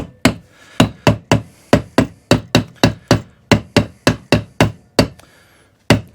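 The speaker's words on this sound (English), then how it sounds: "Let me just get my little tiny hammer just to seat it." A small hammer taps a new bearing onto a Honda GXV160 gearbox from a Kaaz Lawnflight mower, giving about fifteen sharp, close metallic knocks in a quick, fairly regular rhythm with short pauses near the end.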